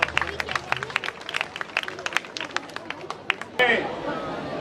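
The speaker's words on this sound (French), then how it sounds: "Vous pouvez applaudir" An audience clapping after a display, a burst of scattered, fairly close handclaps over a few seconds, then giving way to a voice speaking.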